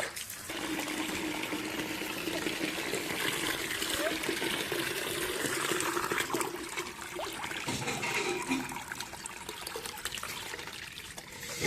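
Water pours steadily into a bucket indoors, a continuous splashing, hissing rush that stays near and fairly even throughout.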